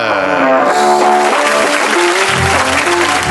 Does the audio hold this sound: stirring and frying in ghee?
no